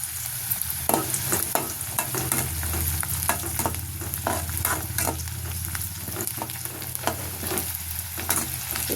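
Onion, garlic and dried red chilies fry in a hot pan, with a steady loud sizzle running throughout and repeated stirring scrapes breaking through at an irregular rhythm.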